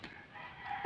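A rooster crows faintly at a distance, a short thin call in a quiet indoor setting.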